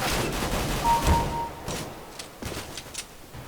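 Pistol gunshots in the CS:GO video game, several muffled reports scattered across a busy, noisy game mix with no clear speech.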